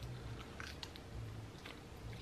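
Crunchy Korean cheese corn dog with a hot Cheeto coating being bitten and chewed close to the mic, a few soft crunches and chewing sounds over low background hum.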